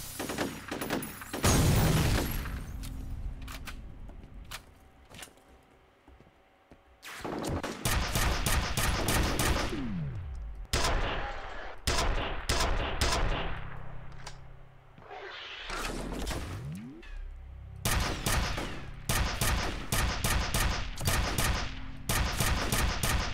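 Heavy automatic gunfire in the video game F.E.A.R., loud bursts arriving in clustered volleys with brief quieter gaps between them, sustained over the whole stretch.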